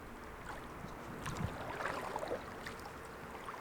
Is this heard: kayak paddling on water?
yes